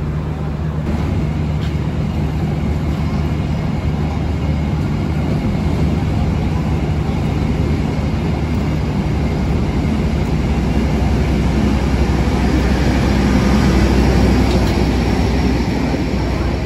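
Dharmawangsa economy-class train pulling into Babat station as the Harina service from Surabaya Pasar Turi to Bandung enters alongside, a continuous loud rumble of wheels and carriage noise with a steady low drone heard from on board.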